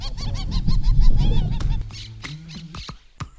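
Wild birds call out in the open, a rapid run of loud goose-like honks and squawks that gives way to a few sparser, sharper cries and clicks near the end.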